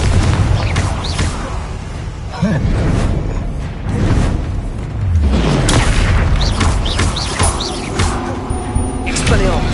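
Fiery spell blasts from the Confringo curse in Hogwarts Legacy boom repeatedly during a busy combat sequence, with bursts and crackling impacts layered over a spoken voice.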